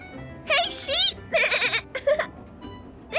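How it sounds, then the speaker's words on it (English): A flock of sheep in a children's cartoon bleats in several distinct, wavering calls, clear and fairly close, with short pauses between them. "Oh, look at all the sheep."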